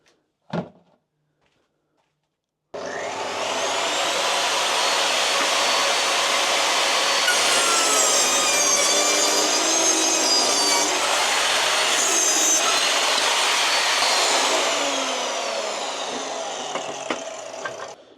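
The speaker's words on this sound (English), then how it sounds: "no matter how I cut this piece of tannalised pine, it's a lovely cut" An Evolution R255 jobsite table saw rips through a piece of tannalised pine, a loud, steady whining cut that runs for about fifteen seconds after a brief knock at the start, then trails off as the blade spins down.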